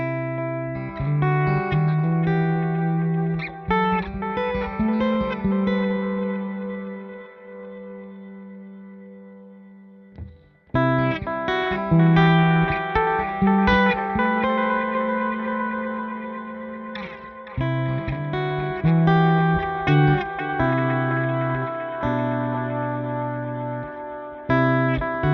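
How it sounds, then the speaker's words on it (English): Guitar played through a Wampler Ethereal ambient delay and reverb pedal, with sustained chords and notes smeared into lush, echoing trails that swell continuously, briefly thinning to a held low note before the playing resumes, alone without talk. "this is one of those type of pedals that you can use as just a basic delay and reverb"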